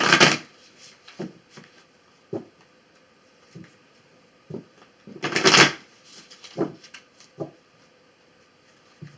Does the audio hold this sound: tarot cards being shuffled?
yes